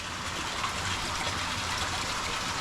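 Steady gush of water pouring out of a 3-inch acrylic drain pipe on a 1000-gallon acrylic aquarium, a constant close, loud rushing hiss with no voices.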